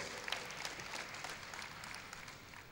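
Faint, distant applause rises from the audience at a university convocation lecture, a soft continuous patter of many hands with no voices on top.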